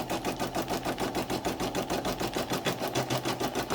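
A sewing machine runs a running stitch through fabric and batting for a small heart ornament, a rapid, even mechanical clatter pulsing several times a second, close by and steady throughout.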